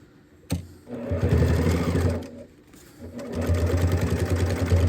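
A sewing machine stitches back over a seam through several layers of placemat fabric for a waterproof toiletries bag, whirring in close, steady runs with a brief pause between bursts.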